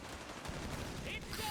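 Rapid machine gun bursts crackle in a Company of Heroes 3 battle, quiet and densely packed, with dense chattering fire and faint battlefield noise throughout.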